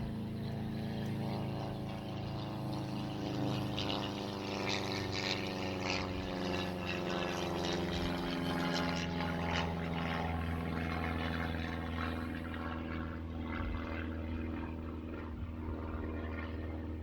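A propeller airplane drones overhead in a steady, continuous hum with a low rumbling tone, holding at an even loudness throughout with no voices.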